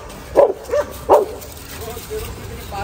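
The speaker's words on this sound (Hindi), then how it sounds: "ये देखो ये भौंक रहे हैं" Dogs behind a wall beside a drain bark three sharp times in quick succession, fairly close and loud, then trail off into quieter yips and whimpers.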